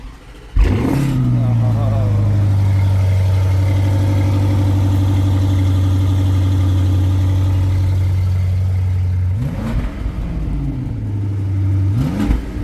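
Supercharged Audi engine with an openable exhaust, a deep steady idle-like drone after a sharp start, held for several seconds before a couple of blips near the end, close and loud.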